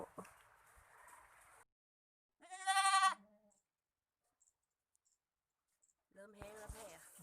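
Goats bleat on a rural goat farm: a loud, wavering bleat stands alone mid-clip, with further bleating near the end and softer animal noise at the start.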